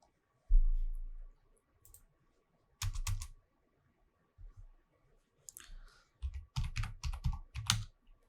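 Bursts of clicky computer keyboard typing as code is written, short clusters of keystrokes with pauses between them, close and fairly quiet.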